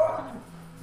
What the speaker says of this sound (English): He's still barking.